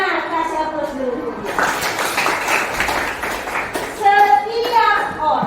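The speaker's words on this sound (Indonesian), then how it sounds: "kasih aplaus dulu" A class breaks into applause, a burst of clapping from many hands lasting a couple of seconds, framed by a teacher's voice talking before and after.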